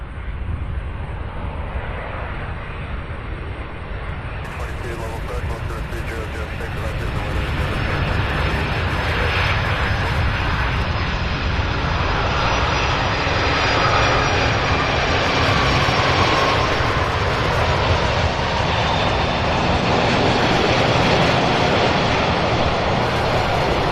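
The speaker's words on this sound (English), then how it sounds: "Here is Queen of the Skies, UPS 1933, our third 747 Queen of the day." A UPS Boeing 747 cargo plane taxiing at Louisville airport, heard as a loud, continuous broadband engine roar and rumble with a high whine, steady throughout and fairly close.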